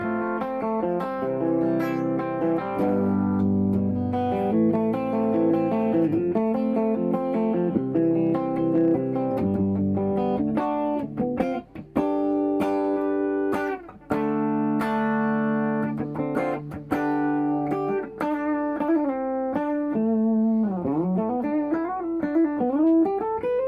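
An ESP LTD Viper 50 electric guitar plays through a compressor and reverb pedal, with sustained single notes and chords ringing in a melodic line, a few brief gaps and bent notes near the end, and no talking.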